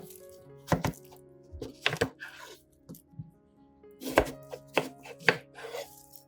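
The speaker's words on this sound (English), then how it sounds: "Using a sharp knife, cut lengthwise from top to bottom through both the shell and the pulp" A sharp knife chops through watermelon shell and pulp on a cutting board, with several crisp, close thunks in irregular bursts, some doubled, with a quiet pause in the middle.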